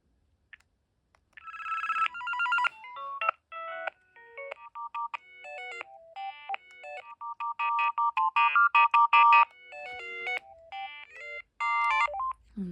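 A Philips DECT 511 cordless phone handset plays its electronic ringtone, a bright melodic sequence of beeping tones in rhythmic bursts with brief pauses between phrases, clear and close in a quiet room.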